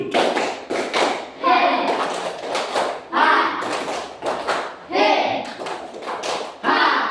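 Schoolchildren clap a counted rhythm in a classroom, several rounds of sharp group claps in short bursts. Voices chant and call out between and over the clapping.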